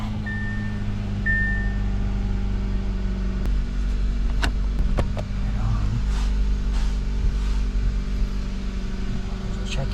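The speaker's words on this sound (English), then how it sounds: "Let's put on the battery and start it up." A Hyundai Accent engine cranks, starts and settles into a steady idle after a key ignition replacement, the low running drone continuing under brief clicks and some talking.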